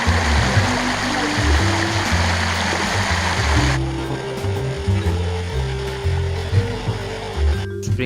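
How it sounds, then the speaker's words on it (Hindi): Hot spring water at Tang Mountain in Nanjing, China pours out in a steady, close, full rush, with a slight change in texture partway through and no voices. "उसके अंदर से पानी आ रहा है"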